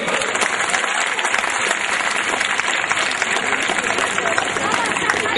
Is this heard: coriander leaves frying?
no